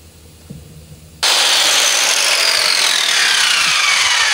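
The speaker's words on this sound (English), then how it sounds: "we've marked off the top deck and cut off the part that needed to be cut off" A power saw bites into a boat's wooden top deck after a quiet moment and a couple of light knocks, then roars loud and steady right up close as the cut continues.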